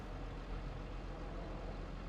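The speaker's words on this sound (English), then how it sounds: "tractor starting up." Tractor engine in the Farming Simulator 25 video game, heard as a low, steady diesel rumble at fairly quiet volume. No voices over it.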